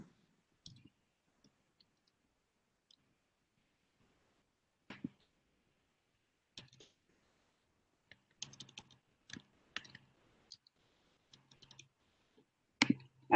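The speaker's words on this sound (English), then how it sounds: "I'm typing that." Scattered bursts of computer keyboard typing during an online committee meeting, quiet and sporadic with long pauses between short clusters of keystrokes, no voices.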